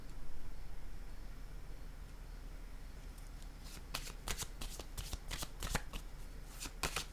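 Playing cards handled from a deck in a quiet room, soft rustle at first, then a run of crisp, close flicks and snaps in quick succession, no speech.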